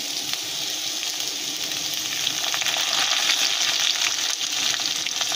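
Chopped tomatoes and slit green chillies are tossed into hot oil with garlic in a frying pan, throwing up a loud, dense, continuous sizzle. Faint stirring scrapes run underneath, and no one talks.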